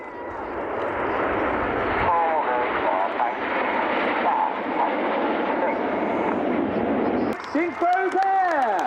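Aerobatic jets in Concorde formation roar past at an airshow, a loud sustained engine rush with pitch sweeping as they pass, and a commentator talks over it.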